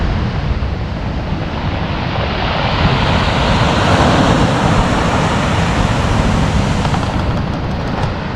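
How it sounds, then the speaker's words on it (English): Big sea swell breaks on an Irish beach, a loud, close, continuous roar of surf that builds and swells in the middle and eases slightly toward the end, with wind buffeting underneath. "So there's still a good swell on the sea at the minute."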